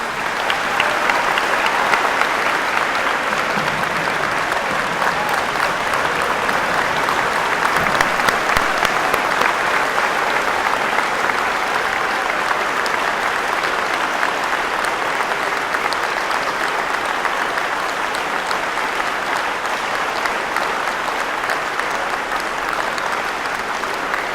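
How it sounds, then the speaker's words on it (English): Steady, full applause from a school assembly audience honoring veterans at a Memorial Day event, continuous and even for the whole stretch with no break. "I also want to do one big round of applause for our veterans."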